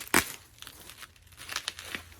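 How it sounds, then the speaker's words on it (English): Plastic wrapping around a cheap Mad Catz Xbox 360 accessory crinkles and tears as it is unwrapped, with a sharp loud rip at the start followed by softer, scattered rustling bursts. "as I unwrap it."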